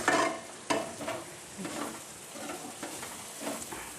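Ivy gourd (tindora) curry fries in a pan with a soft, steady sizzle, broken by a few sharper scrapes and clinks as it is stirred, and no one speaks.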